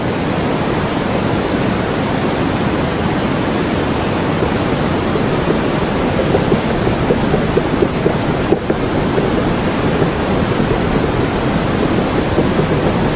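A steady, loud wash of rushing water like ocean waves surging without pause, dense and unbroken throughout, with heavy wind-like noise mixed in.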